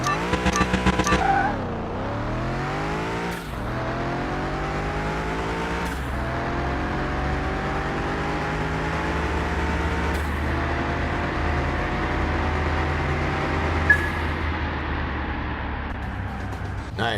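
Drag race cars in Car Mechanic Simulator 21, including an old school Dodge Challenger RT with a 446 pack and slicks, roaring loudly through repeated rising gear-change sweeps as the engines wind up and shift down the strip.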